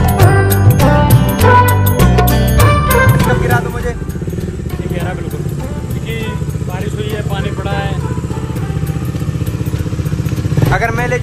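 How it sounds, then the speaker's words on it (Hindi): A scooter engine hums with a low, steady drone while riding. Music plays loudly at first, then people talk over the engine noise. "मैं स्कूटी लेके जा रहा हूँ"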